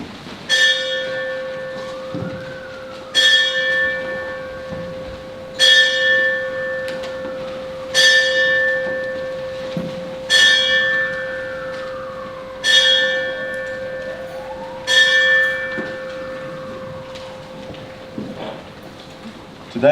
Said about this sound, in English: And so in silence we will listen to the bell ring 7 times.